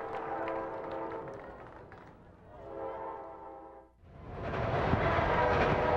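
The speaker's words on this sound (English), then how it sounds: "the train going hard by the outfield here at Lanphier Park" A freight train rolls hard past the outfield at Lanphier Park during a high school baseball championship, its horn sounding in long tones before a loud, steady rumble of rail cars takes over.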